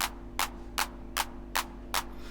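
An electronic clap sample run through EQ and a clipper fires six evenly spaced, crisp bright hits at a steady quick pulse, a little louder and punchier, over a low constant hum.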